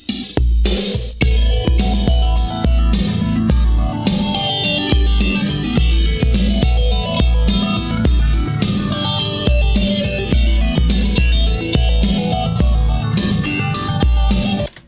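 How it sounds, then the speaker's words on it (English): A main guitar part runs through a time-based effect synced to a drum loop, with punchy kick hits keeping a steady rhythm under layered, echoing guitar tones, loud and continuous throughout. "It was really kind of the main guitar part using a time-based effect that's synced to the drum loop in the audio interface."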